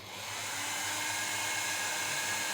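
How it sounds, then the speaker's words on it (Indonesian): An electric blower runs as a load on a 3000 W low-frequency inverter, giving a steady, loud broadband whoosh with a low hum that holds constant for the whole stretch, with no talking. "Saya bebani dengan menggunakan satu buah blower terlebih dahulu ya."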